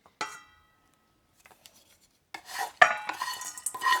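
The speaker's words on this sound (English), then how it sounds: "Next, I'm going to put the bacon in." Crumbled cooked bacon, half a cup, goes into a bowl of zesty keto avocado filling, with brief clinks and rustling scrapes of utensils against the bowl, sparse and close in short bursts separated by silence.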